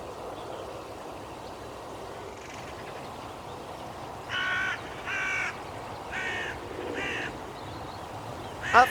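Hooded crows caw in short, harsh bursts of about four or five calls, spaced apart, over a steady rushing background like running water, with a sharper call at the very end.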